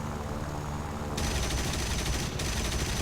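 Aircraft machine guns fire in sustained bursts during a War Thunder realistic battle with a MiG-3-34 and Yak-3, loud and steady over the droning engine, with a sharp shift as the firing starts.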